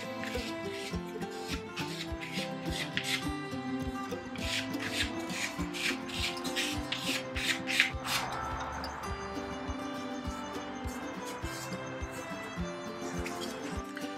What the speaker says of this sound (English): I'm actually just going to just gently scrape it on this brick wall just to abrade that edge smooth